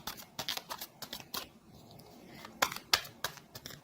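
Tarot cards are shuffled and handled in a tarot reading, giving quiet close papery riffles and flicks in short bursts with pauses between them, and no talk is heard.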